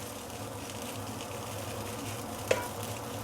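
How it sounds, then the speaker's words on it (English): Steady sizzling of Yangzhou fried rice in a pan as rice clumps are pressed apart, a continuous moderate fry with one sharp tap of the utensil near the end. "you notice I keep on pressing the clumps, yeah? So that it becomes individual rice grain easier"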